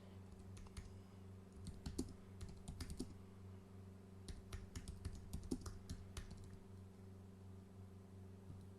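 Typing on a computer keyboard comes through as quiet, irregular bursts of key clicks over a steady low electrical hum, close to the microphone.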